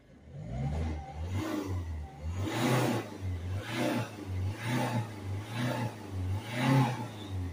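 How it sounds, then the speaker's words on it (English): Ford Focus C-Max 1.6 TDCi diesel idling with a slight air leak: a steady low engine hum with rhythmic, pulsing rises, heard up close and alone. "And you can hear a slight bit of a air leak from somewhere."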